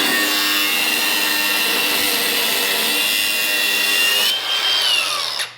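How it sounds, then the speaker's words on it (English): Power tool cuts continuously through sheet metal on a 1960s Baja racing car, a loud steady whine that holds for several seconds, then shifts pitch and tapers off near the end. "I think the first thing that we're gonna do is trim this sheet metal because we don't need it"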